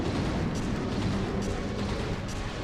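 Pierce 1 rounds fired rapidly from a medium bowgun in Monster Hunter Tri, a continuous, loud barrage of shots blending into a steady roar of combat noise.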